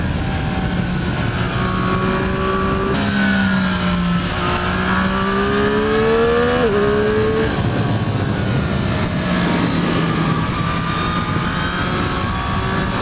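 A Triumph Street Triple 765 RS naked motorcycle on Pirelli Supercorsa SP tyres roars loudly along the road, engine note rising and falling through gear changes and throttle blips, with constant wind rush throughout.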